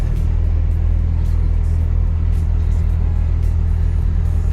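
Steady low engine drone and road rumble from a truck cruising along, constant and close, with no speech.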